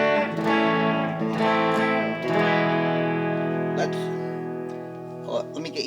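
An ammoon Strat-style electric guitar played through bridge and middle pickups together, strummed chords ringing out with effects and light distortion, fairly loud and sustained, ending with a few quieter plucks.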